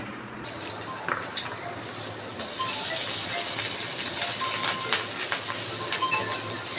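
Steady gush of water pouring from a kitchen tap while chicken is prepared, continuous and fairly close, with light splashing into a sink.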